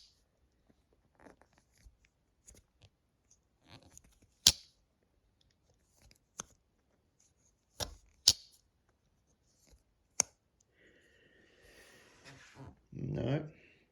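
Clip point blade of a Bear & Son large trapper knife with red stag bone handles being opened, giving a few sharp, close metallic clicks and snaps spread apart in a quiet room, followed by soft rustling handling noise.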